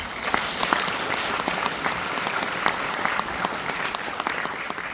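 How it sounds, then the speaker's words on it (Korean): Audience members at a regional forum lecture applaud to welcome the speaker, a steady round of clapping with distinct individual claps standing out, moderately loud and unbroken for several seconds. "우리 모두 다 같이 큰 박수로 맞이해 주십시오."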